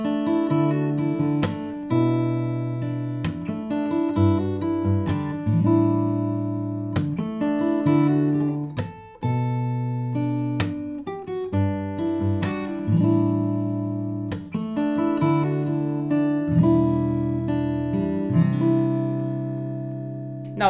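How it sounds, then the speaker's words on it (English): Acoustic guitar plays a melody decorated with hammer-ons while a percussive thumb slap and strum falls on the second and fourth counts, clear and close, steady throughout with no voice. "We are going to add the thumb slap and strum, and we're also going to embellish the notes of the melody with an hammer-on."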